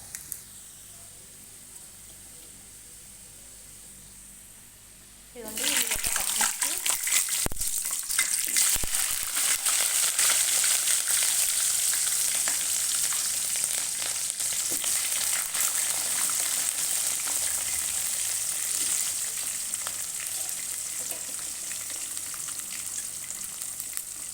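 Onion and green chillies drop into hot oil in a pan where mustard seeds have been frying. A loud, steady sizzle bursts in after a quieter stretch and keeps crackling continuously to the end.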